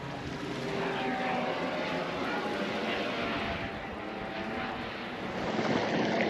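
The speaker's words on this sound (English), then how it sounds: "The helicopter crews showed their appreciation of our efforts with a flyby" Steady broadband rotor and engine roar from a rescue helicopter flying by on its way back to base near the coast, loud and continuous throughout with a slight swell toward the end.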